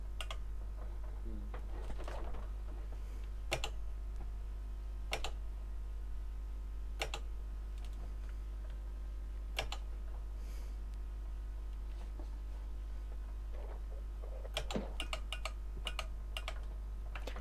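Keys on a computer keyboard clicked during a Nordschleife sim race, sparse single taps at irregular intervals with a brief cluster near the end, over a steady low hum.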